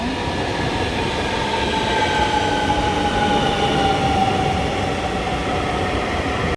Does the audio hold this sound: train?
yes